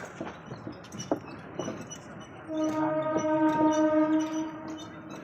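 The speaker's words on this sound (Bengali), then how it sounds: "এই রেল ব্রিজের উপর দিয়ে রেল যাচ্ছে" A train crosses an iron railway bridge at Kunti Ghat: a few faint knocks at first, then a steady, fairly loud rumble with a sustained tonal, horn-like drone through the second half.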